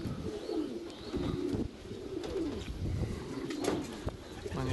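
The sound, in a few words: young pigeon cooing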